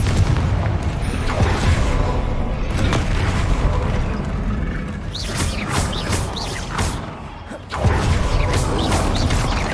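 Confringo fire-blast spells explode in Hogwarts Legacy, a run of loud booming blasts and crashes over dense game noise, with a brief lull before the booms return.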